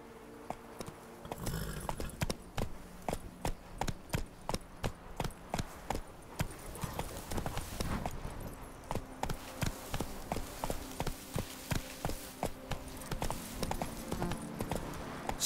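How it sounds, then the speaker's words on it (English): Horse hooves clip-clop at a steady walking rhythm in The Witcher 3, a close, evenly spaced beat that runs throughout with no talking. "Whoa there, Roach"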